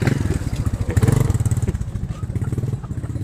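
Motorcycles putter loudly and close by near a busy riverside in a steady, pulsing rhythm, with faint voices in the background.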